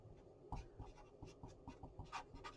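Notes being written down by hand: a steady run of close scratchy pen or marker strokes with a soft, uneven rhythm, faint and alone, with no talking.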